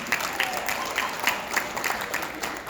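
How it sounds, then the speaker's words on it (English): An audience at the Anniston High School ring ceremony claps in a steady patter of many hands, with small rhythmic surges running throughout. "That's okay, you clap for it"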